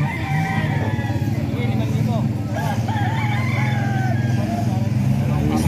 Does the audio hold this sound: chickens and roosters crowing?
yes